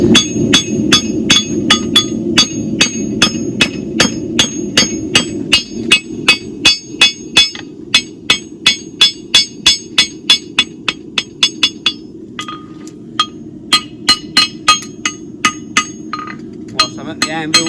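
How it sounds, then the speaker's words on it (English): A farrier hammers a horseshoe on an anvil, ringing metallic strikes in a steady, fast rhythm that grows sparser and more spaced toward the end, loud and close over a low background hum. "I'm at the anvil, I might as well put a bit of shape into it"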